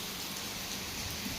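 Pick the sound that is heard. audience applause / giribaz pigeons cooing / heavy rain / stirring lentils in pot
heavy rain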